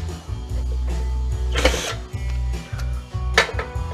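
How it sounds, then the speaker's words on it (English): A 6-in-1 screwdriver backs screws out of a duct booster fan being scrapped, giving close, loud scraping and clicking bursts of metal turning against metal over a steady low hum. "Get out as many of these screws as we can."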